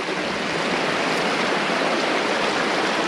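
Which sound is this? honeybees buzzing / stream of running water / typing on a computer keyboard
stream of running water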